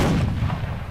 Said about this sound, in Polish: No i jeszcze jeden strzał.